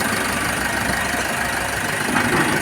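Isuzu D-Max diesel engine idling steadily up close, a continuous even rumble with faint knocking texture and no talking.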